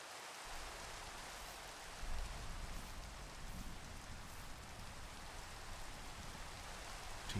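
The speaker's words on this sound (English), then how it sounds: "Oh, and it's raining again." Rainfall in the Minecraft video game makes a steady, even hiss of drops with no break, fairly faint and uniform throughout, with no talking.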